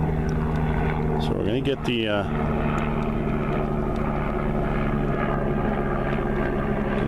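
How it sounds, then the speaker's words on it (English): A propeller airplane passing overhead outdoors, a steady broad drone that holds throughout under someone talking, with a brief burst of another sound near the start. "Hear that plane going overhead?"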